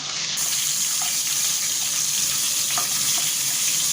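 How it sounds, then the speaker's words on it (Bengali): Steady, close sizzling of capsicum frying in hot oil in a wok, a continuous crackling hiss with a few faint pops and no talk. "কড়াইয়ের তেলটাতেই ক্যাপসিকামটা ভেজে নিচ্ছি"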